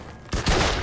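Machine gun fire in the video game Mafia 2, a sudden loud burst of rapid shots that starts after a brief quiet moment and carries on to the end.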